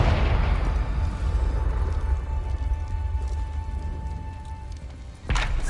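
A magical fire spell goes off in a video game with a loud, rumbling explosion that decays into a crackling, debris-like tail, then a second sharp burst near the end.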